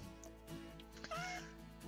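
A cat meows in The Witch of Fern Island video game, one clear drawn-out call near the middle over a soft, steady game background.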